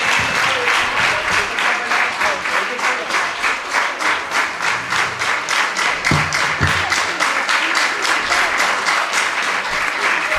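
An audience at a dharma retreat workshop breaks into sustained, loud applause, dense rapid clapping throughout with a few sharp taps standing out near the middle, no talk over it.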